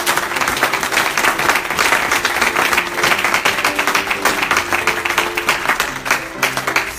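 A church congregation applauds the Lord during an intercession prayer service, a dense, steady roar of many hands clapping that holds loud throughout, with faint sustained tones underneath.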